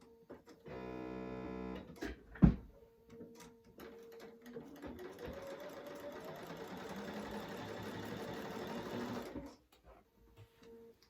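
A sewing machine stitching through thick tote bag fabric, starting with a brief burst, then after a pause running steadily for several seconds before stopping; close and clear with no talk.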